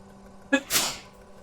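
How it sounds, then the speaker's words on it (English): A single close sneeze: a short voiced catch of breath followed by a sharp, breathy burst that quickly fades. "I gotta sneeze and then talk"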